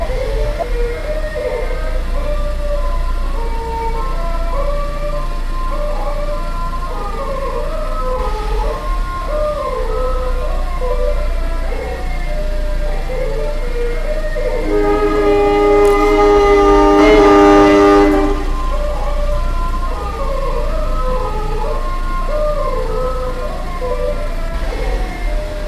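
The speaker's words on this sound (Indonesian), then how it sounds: "Silahkan disimak kereta melintas JPL 4 yang pakai palang rusak ya." In PJL Simulator, a train rumbles steadily past a level crossing with a broken barrier, with a low engine drone, while the crossing alarm rings in a repeating pattern and a horn sounds briefly midway.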